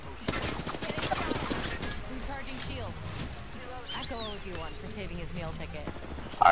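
Rapid bursts of gunfire ring out in an Apex Legends Arenas match, dense volleys layered with chirpy game effects and a player talking over the action.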